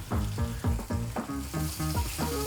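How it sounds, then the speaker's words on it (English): Steak laid into a hot oiled pan sizzles loudly in repeated bursts as the meat is pressed down, crackling surges rising and fading in quick succession with no voices. "Always lay the steak away from you and hear that sizzle"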